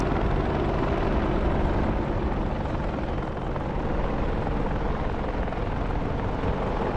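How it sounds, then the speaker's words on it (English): A simulated helicopter hovers in the flight sim DCS, its dense, steady rotor and turbine roar filling the clip evenly with no voices. "Nice bit of hovering there, Alex."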